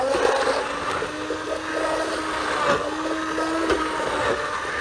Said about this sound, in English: Now I blend the soup. I use sticky blender